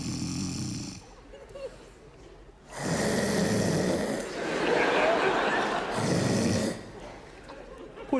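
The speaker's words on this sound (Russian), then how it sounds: "чё, храпишь, что ли?" A person snoring loudly in a room, one rasping snore at the start followed by long, rough, snorting bursts, some with a laugh-like quality.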